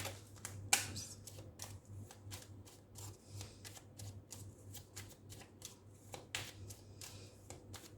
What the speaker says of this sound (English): I'll first shuffle and put down your cards.